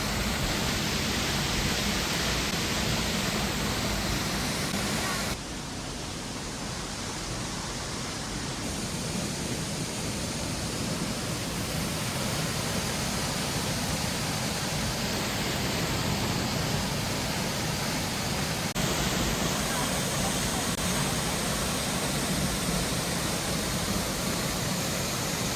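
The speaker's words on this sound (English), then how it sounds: "The result is a waterfall shaped by force, time, and a little geological luck." Waterfall at Hills Creek in Pocahontas County, West Virginia, pouring into a deep gorge, gives a steady, dense roar of rushing water that stays loud and even throughout, with no voices.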